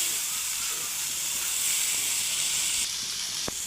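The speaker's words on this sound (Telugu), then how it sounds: "ఫ్రై చేసుకుందాం బాగా. చూడండి, ఇలా వేయించుకోవాలి. కొద్దిగా క్రిస్పీ అయ్యేదాకా వేగాలి." Garlic soya chunks fry steadily in a pan, giving a continuous loud hiss and sizzle that holds throughout, with a faint tap near the end.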